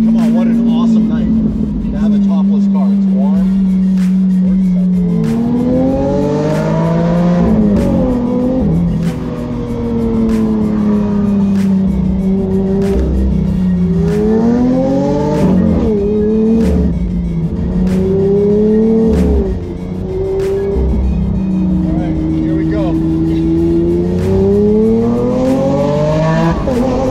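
Straight-piped Lamborghini Aventador Roadster engine revving hard, loud rising and falling howls through several gear pulls over nearly half a minute, with voices over the engine.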